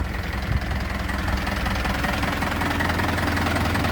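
A used truck's diesel engine runs steadily and close by, with a rough, knocking rumble that holds level throughout and no other sound over it.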